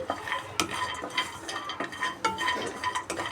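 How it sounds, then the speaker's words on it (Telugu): Cashews and almonds dry roasting in a pan, stirred with a utensil that scrapes and clinks against the metal in steady, close strokes, with a faint rattle of the nuts and no voices. "డ్రైగా రోస్ట్ చేసుకోవాలండి ఒక రెండు నిమిషాలు పచ్చి వాసన పోయే వరకు అలాగా ఫ్రై చేసుకోండి"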